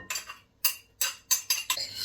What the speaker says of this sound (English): I stir that in.